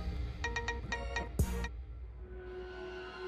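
A mobile phone rings with a short electronic pattern of repeated chirping tones, followed by a sharp click, as if the call is answered, then a quiet hum.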